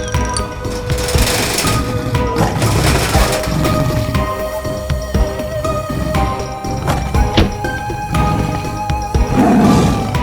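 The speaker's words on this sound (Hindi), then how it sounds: "गांव में बाघ घुस आया है।" A cartoon tiger roars amid loud, dense mixed sound in a village scene, with rumbling growls over cracking and clattering noises and a busy, music-like layer running throughout.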